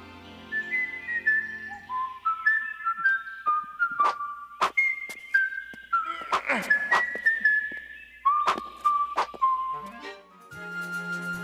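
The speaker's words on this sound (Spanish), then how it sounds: "Link está silbando el tema de Super Mario Bros" Link whistles the Super Mario Bros. theme in a Legend of Zelda cartoon, a clear melodic run of short bright notes, close and alone, with a few sharp clicks and taps between phrases.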